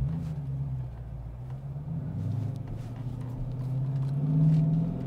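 A Dodge Challenger R/T Shaker V8 rumbles at idle with a deep, steady low-pitched throb that swells slightly toward the end, heard from inside the car with no talking.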